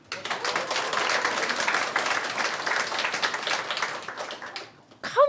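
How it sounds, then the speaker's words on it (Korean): An audience at a Korean gathering welcoming newly qualified loss adjusters claps in a moderate, steady burst that fades out after about four seconds, with no talk over it. "큰 박수를 해주세요"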